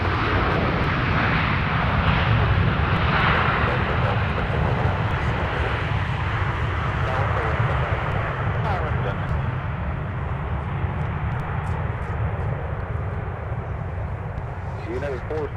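An airliner arriving from Chicago O'Hare lands at Minneapolis–St. Paul airport with a loud, sustained engine roar and rushing noise that slowly eases, close by, while someone talks and radio chatter is mixed in.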